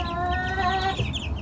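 Several chickens cluck close by in short, overlapping bursts that include one longer drawn-out call, with faint background noise.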